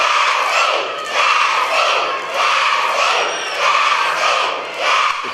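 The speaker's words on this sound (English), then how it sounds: "cheer with enthusiasm." Schoolchildren in pajamas cheer and shout at a school pie-in-the-face fundraiser as teachers take whipped cream pies, a loud, continuous crowd roar rising and falling in waves.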